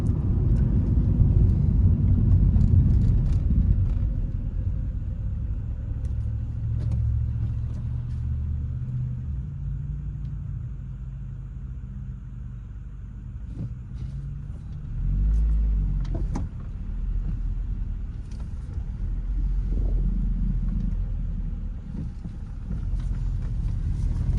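Inside a car driving along a bumpy road, a steady low engine and road rumble fills the cabin, with thumps and jolts from bumps rising and falling throughout; no one speaks.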